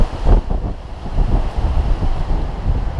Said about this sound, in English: it's so windy up here